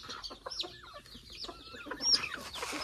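Chickens on a small local poultry farm cluck and murmur in a steady, busy chatter, with one sharper call standing out near the end and no talk over it.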